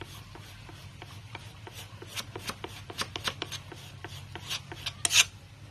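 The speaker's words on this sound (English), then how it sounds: "the plant matter and juice in there getting scraped out as well" Rough, rhythmic rasping strokes as inner bark and green plant matter are scraped out by hand, each stroke a short dry scratch, growing louder and busier toward the end.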